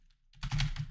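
Quick burst of keystrokes on a computer keyboard entering a Linux command, a few soft taps rising into a dense run of clicks, close and clear with no talking.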